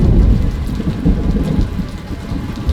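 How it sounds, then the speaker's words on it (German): Heavy rain pours steadily outdoors with deep rumbling thunder underneath, a dense continuous wash of loud, close rainfall with no voices. "Auch wenn der Regen da draußen echt ASMR-Gold ist"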